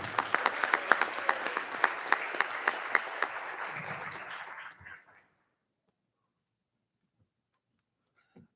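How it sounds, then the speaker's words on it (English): Audience applause at a school board meeting awards ceremony, a few seconds of scattered clapping with sharp individual claps standing out, fading abruptly into near silence. "Another round of applause."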